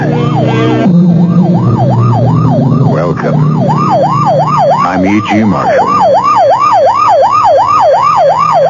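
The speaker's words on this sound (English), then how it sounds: "You know it's a police car or ambulance on the way to or from an emergency" A police car or ambulance siren wails in a steady, rapid up-and-down cycle, loud and close, while a voice speaks briefly over it.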